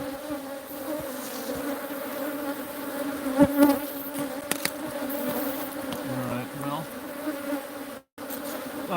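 A swarm of bees in a tree hums as a continuous, dense buzz with individual bees zipping past close by, and brief muffled knocks and handling noises break in, including a short dropout near the end.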